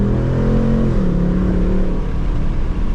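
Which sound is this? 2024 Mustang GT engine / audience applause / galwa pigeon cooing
2024 Mustang GT engine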